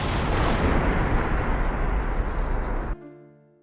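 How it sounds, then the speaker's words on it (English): Rifle and machine gun shots sound effect: a dense, loud barrage of rapid overlapping gunfire and booming blasts lasting about three seconds, then cutting off abruptly into a short fading tail. "I still think we need some rifle shots and some machine gun sound."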